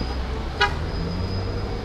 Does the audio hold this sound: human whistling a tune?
no